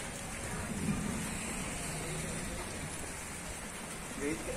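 Steady rain falls across an outdoor hillside setting at an old camp site, a continuous broadband hiss with no distinct drops standing out, moderately loud and even throughout.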